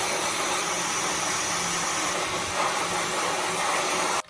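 A Dyson hair dryer blows steadily on hair dyed a pastel colour, a loud, close, continuous airy roar that holds for about four seconds before cutting off abruptly.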